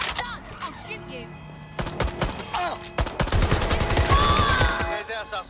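Bursts of gunfire ring out in the video game Watch Dogs Legion, scattered single shots giving way to a rapid fusillade, loud and close, with game voices talking over parts of it.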